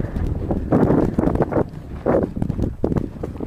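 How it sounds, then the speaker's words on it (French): Wind gusting across the microphone on a hiking trail, a steady low rumble that swells in several strong buffets, loud and close throughout with no clear talk. "Ça bouge beaucoup, il y a du vent."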